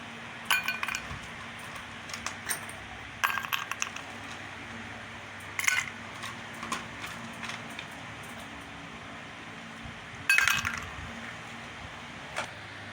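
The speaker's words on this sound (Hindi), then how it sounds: "अब गिलास में बर्फ़ डाल लेंगे" Ice cubes drop into a glass for a chilled sharbat in several separate bursts of bright clinks and rattles, each short and close, with quiet pauses between them.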